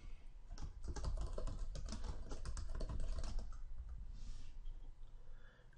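Steady typing on a computer keyboard while entering a page name in SharePoint 2013, a fast continuous run of close key clicks with no talk.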